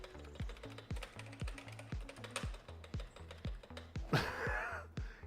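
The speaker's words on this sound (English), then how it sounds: "So this is a quiet keyboard, but my old keyboard was right next to me. You hear that?" Clattery typing on a loud old computer keyboard, a fast irregular run of sharp clicks close by, with a rhythmic low thumping backdrop and a brief burst of other noise near the end.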